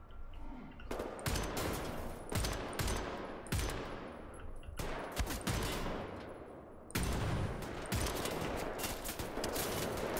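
Bursts of automatic gunfire in the shooter game Wolfenstein: The New Order, loud rapid volleys in several clusters with brief pauses between, no speech.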